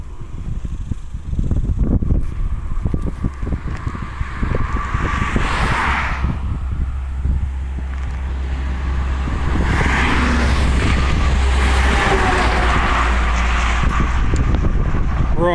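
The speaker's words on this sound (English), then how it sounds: "the traffic's a little heavier than usual today" Steady road traffic on Highway 81 south of Wichita, with cars passing close by in broad whooshing swells over a constant low rumble and wind buffeting the microphone.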